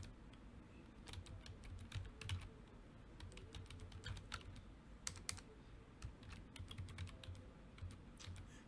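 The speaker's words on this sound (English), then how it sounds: "we're going to type in double curly braces" Steady typing on a computer keyboard, with quick irregular key clicks running throughout at moderate close range, no voices.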